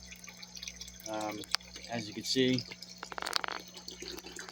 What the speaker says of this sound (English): I just suck out the water